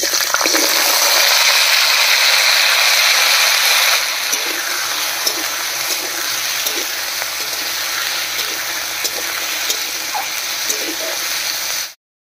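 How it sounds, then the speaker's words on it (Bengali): Cut, washed potatoes sizzle loudly in hot mustard oil in a wok, a dense, steady frying hiss that eases slightly after a few seconds and continues until a sudden cutoff. "এবারে কেটে ধুয়ে রাখা আলুটা দেব"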